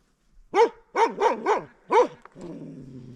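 A dog barks five times close by in a quick, uneven run, and a lower rumbling noise follows.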